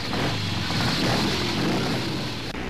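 A police motorcycle rides off with a steady, loud engine drone that holds even throughout, close by and without talk.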